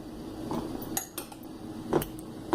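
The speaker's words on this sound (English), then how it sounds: "Now we are going to smash the boiled chola, chickpeas." Boiled chickpeas are mashed in a metal pot with a utensil, giving scattered metallic clinks and scraping knocks at an irregular pace, fairly close and with no talking.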